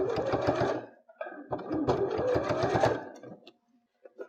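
A sewing machine runs in two close bursts, stitching bias binding along a seam on a pot holder, with a brief pause between runs and a soft click as it stops.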